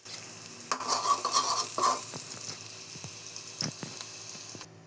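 Carrot and onion are stirred and sautéed with a little water in a pan, giving a soft steady sizzle broken by a few scraping clicks of a spoon against the pan, close and fairly quiet.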